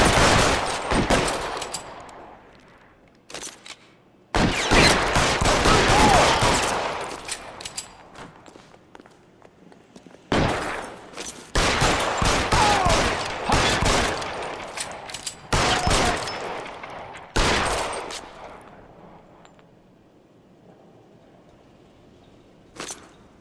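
Bursts of loud gunfire in the crime game L.A. Noire, with sustained volleys broken by short pauses and footsteps running between the shots.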